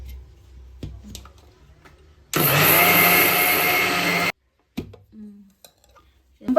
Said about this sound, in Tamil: இந்த வறுத்த நெல்லை இப்போ நம்ம வந்து ஜாரில் போட்டு அரைக்க போகிறோம்.